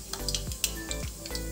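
Mustard seeds and cumin crackle in hot oil in a pan for a spicy black chickpea curry, giving a short, close burst of sputtering sizzle with sharp pops.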